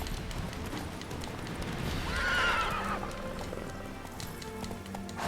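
Roach, Geralt's horse in The Witcher 3, whinnies once in the middle of the clip over running hooves and game ambience, fairly close and clear.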